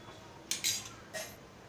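A metal spoon scrapes and clinks against a cooking pot while rice kheer is being stirred, giving a few sharp, close clatters in quick succession followed by one more after a short pause.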